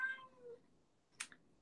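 A house cat lets out a short, nearby meow, followed after a pause by a brief sharp sound, in an otherwise quiet room.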